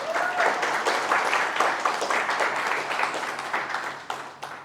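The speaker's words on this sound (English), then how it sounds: "Have a round of applause for them" A conference audience breaks into sustained applause, many hands clapping in a steady dense wash that swells and then gradually thins out toward the end.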